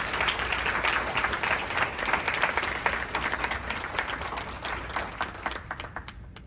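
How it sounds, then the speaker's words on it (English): Audience applause at a Black History Month celebration during a community bridging event, dense sustained clapping from a crowd that holds steady then gradually thins and fades toward the end. "So can we take this opportunity to please give a round of applause as we celebrate"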